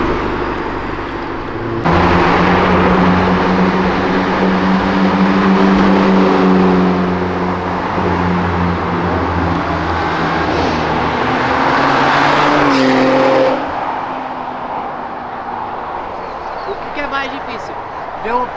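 A Porsche SUV engine revs hard and roars for several seconds, pitch rising and falling, with a tire squeal briefly at the end and people talking over it.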